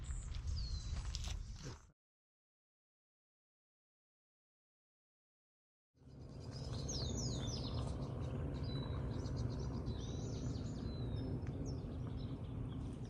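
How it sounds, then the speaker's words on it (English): Several birds chirp and tweet in short high calls over a soft outdoor background in a California native plant garden, broken by a few seconds of complete silence. "We're hearing a few birds."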